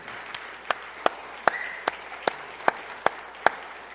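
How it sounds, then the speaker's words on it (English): Slow, evenly spaced hand claps, about nine sharp separate strikes roughly every half second, ring out at modest volume in a quiet room as honored guests stand to be recognized. "Let's give him a big applause."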